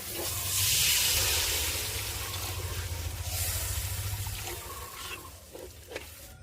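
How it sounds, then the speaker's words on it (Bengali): Water poured into a pan of well-fried spice paste for a rohu fish curry, a loud hissing sizzle with a rushing pour that gradually settles into softer bubbling. "মশলাটা ভালো করে কষিয়ে নিয়েছি, এবারে পরিমাণ মতন জল দিয়ে দেবো"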